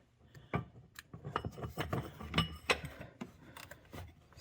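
A 3/8 ratchet turning a Volvo oil filter socket on a P2 five-cylinder engine's oil filter, giving close, repeated clicking and mechanical clatter in an uneven rhythm, with no talking.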